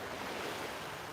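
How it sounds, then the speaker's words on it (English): Waves of an incoming tide wash onto the shore at sunrise, a brief, steady broadband rush of surf with some wind, with no voices. "The tide's actually coming in quite quickly."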